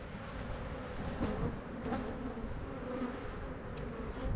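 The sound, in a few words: honey bees buzzing around a hive frame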